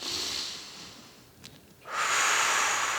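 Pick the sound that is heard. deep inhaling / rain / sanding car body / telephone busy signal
deep inhaling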